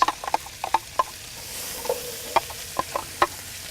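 Chopped white onion sizzling in hot bacon fat outdoors on a Big Green Egg, a soft steady fry with frequent sharp clinks and scrapes of stirring utensils against the pot, close and without voices.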